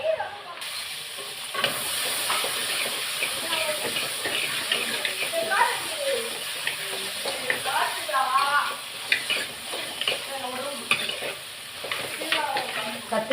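Brinjal frying in oil for masiyal kuzhambu, a continuous sizzle and hiss with scraping stirs, close and fairly loud, while someone talks over it.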